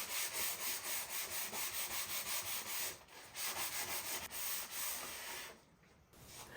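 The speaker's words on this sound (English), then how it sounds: "The blades are getting a good clean, then a light scuff sand and dust removal" Old ceiling fan blades are given a light scuff sanding, a steady rhythmic back-and-forth rubbing of abrasive over the surface, quiet and close, with a short pause near the end.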